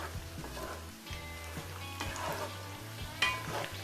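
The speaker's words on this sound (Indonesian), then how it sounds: "Jadi kalau goreng seperti ini nggak perlu lama-lama ya, kan dagingnya udah empuk, udah mateng" Tender cooked beef empal frying and sizzling in a pan, a steady crackling hiss with occasional stirring and turning clatters, close and continuous, with no voices.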